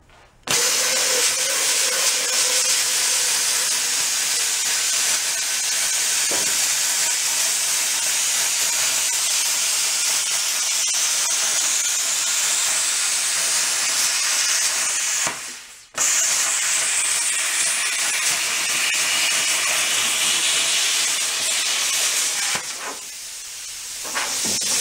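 Nozzle cutter slicing through a rusty Econoline pickup's quarter panel, a loud continuous hiss that stops briefly midway, then resumes and fades near the end.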